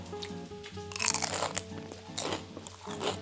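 Crispy vegan rice paper bacon being bitten and chewed, loud close crunches in several bursts over soft background music.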